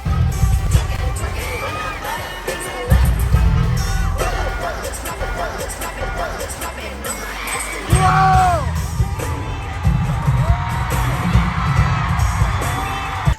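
Fans scream and whoop in bursts at a concert, the crowd noise loud and close over pounding music, with swells of shrieks around the middle and later on.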